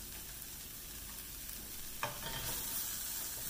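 Red curry seasoning sautés with shallots and lemongrass in a claypot, a soft, steady sizzle broken by a single scrape of stirring, after which the frying grows slightly louder.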